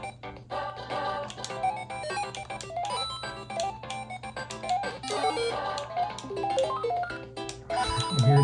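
Glitchy, distorted video game music from an emulated game running on a Samsung Galaxy Tab S6 Lite (2022), a dense, continuous electronic tune with warbling tones and a steady low drone throughout.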